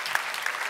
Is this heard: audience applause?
yes